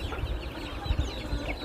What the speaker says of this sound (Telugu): ఇప్పుడు మీ ముందుకు కొత్తగా ఒక 28 కోడిపిల్లలు తేవడం జరిగిందండి.